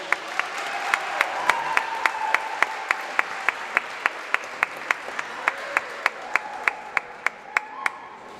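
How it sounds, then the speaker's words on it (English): A crowd applauds senior players at a high school basketball Senior Night in a gym. The clapping is loud and sustained, with sharp regular claps standing out above the dense applause throughout. "let's give all these outstanding seniors one more round of applause for their endeavors here at Swain County High School"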